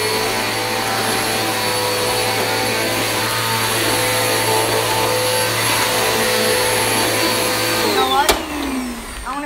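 A vacuum cleaner with a noisy brush roll and a once-rebuilt motor runs loudly and steadily with a high whine, then a brief clatter and a falling squeal near the end.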